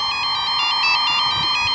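Kundan's mobile phone rings with a bright electronic ringtone, a repeating pulsed melody that plays steadily and loudly on its own throughout, with no voices.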